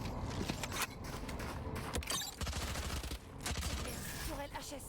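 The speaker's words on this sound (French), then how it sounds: "je tire sur la tourelle de Nola, ça m'a mis bien" Rapid gunfire in the video game Valorant, aimed at a placed turret during a match, crackling in dense bursts over continuous game sound and music, with a voice talking faintly in places.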